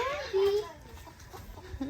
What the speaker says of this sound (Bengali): এই মুরগি ধরিও না, ছেড়ে দাও।